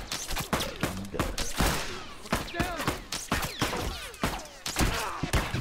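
Gunfire in The Last of Us Remastered multiplayer supply raid, rapid repeated shots and bursts with game effects, while players talk over the action throughout.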